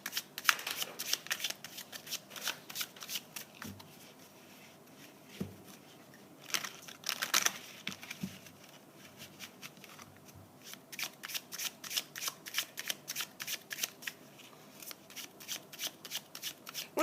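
Tarot cards are shuffled by hand up close in repeated bursts of rapid riffling clicks, with short pauses between rounds.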